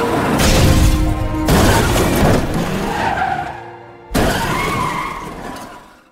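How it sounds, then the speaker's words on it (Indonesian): A car loses control in a violent skid with squealing tires and harsh scraping, then a brief gap before another loud burst of sliding and impact noise. "mobil itu mengalami kecelakaan parah hingga 2 orang meninggal dunia"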